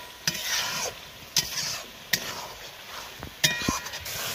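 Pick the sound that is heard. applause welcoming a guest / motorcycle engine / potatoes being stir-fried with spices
potatoes being stir-fried with spices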